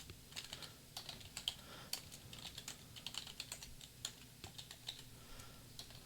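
Irregular bursts of keystrokes on a computer keyboard while someone edits a config file on an Ubuntu server, with quick clicks and brief pauses, faint and close, with no talking.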